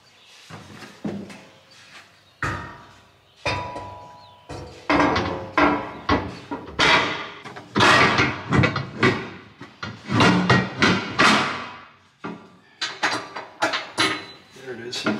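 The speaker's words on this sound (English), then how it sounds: "we're going to run that set bolt, the drawdown bolt, through the hitch" Metal clanks and knocks ring out as a drawdown bolt is worked through a Pullrite 5th wheel hitch, a long run of loud, irregular bangs and scrapes heard up close for about fifteen seconds.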